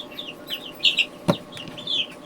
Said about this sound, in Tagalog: may malikot na manok na nangingitlog